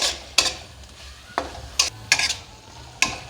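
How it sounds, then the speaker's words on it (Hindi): Prawns fry in masala in a karahi, a low sizzle continuing beneath about six sharp scrapes and clinks of the stirring utensil against the pan. "ये देखिए, 2 मिनट मैंने इसको मसाले के साथ भून लिया।"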